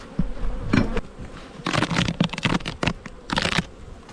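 Honey bees buzz in bursts around an opened hive, loud and close, with rustling and frame handling noises between them.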